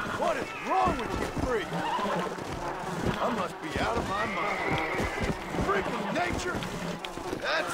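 A horse neighs in Red Dead Redemption: Undead Nightmare, with whinnies and some hoofbeats under someone speaking German over the game sound.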